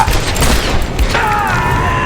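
Gunfire from dual pistols in the video game Tomb Raider Game of the Year Edition, a dense burst of rapid shots blending with booming game effects, loud and continuous.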